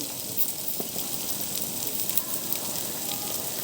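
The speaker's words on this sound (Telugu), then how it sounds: "ఉల్లిపాయలు అయితే వేగుతున్నాయండి" Onions with ginger-garlic paste frying in a pan for a home-style chicken curry, giving a steady, close hiss of fine crackling sizzle that stays even throughout with no talking.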